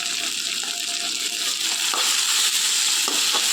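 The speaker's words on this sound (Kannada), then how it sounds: "ಇವಾಗ ಕಟ್ ಮಾಡಿಟ್ಟ ಒಂದು ಟೊಮೆಟೊ ಹಾಕುವ" Chopped tomato frying in a pan for a green peas chaat, a steady loud hiss and sizzle with occasional soft stirring knocks, no voices.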